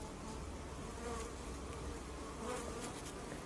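Dense, steady buzzing of honeybees swarming close by, a continuous low hum without pauses.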